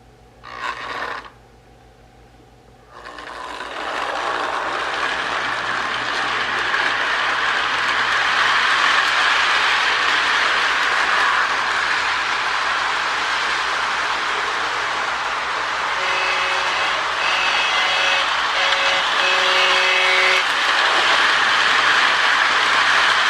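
A Lionel GP9 model locomotive in Erie Lackawanna livery runs steadily on a toy track after a brief start-up, giving a continuous close mechanical whir and rumble with occasional faint tonal whines and no talk.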